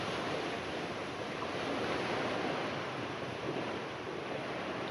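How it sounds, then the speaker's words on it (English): A gentle sea breeze blows steadily in an open outdoor spot, a constant broadband rush of wind noise with surf-like wash, loud and unbroken for the whole stretch, no voices. "So we've got a gentle breeze coming in from the sea"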